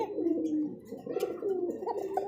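A male pigeon coos up close in low, throaty rolling phrases, repeated several times with a soft gurgling quality.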